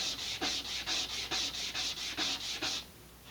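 Laser-cut balsa model rocket fins are sanded to remove burrs, a close, even back-and-forth rasping in about a dozen quick regular strokes that stop near the end.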